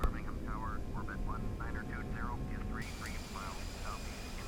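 Airliner jet engines spool up for takeoff in Flight Simulator X, a British Airways A318 at Birmingham: a steady broadband roar holds at even loudness throughout, with someone talking over it.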